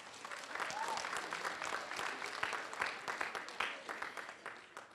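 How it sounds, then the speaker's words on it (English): Audience applause at a school spring chorus and orchestra concert, moderately distant and fairly quiet, with individual claps standing out toward the end as it thins. "give yourselves a round of applause"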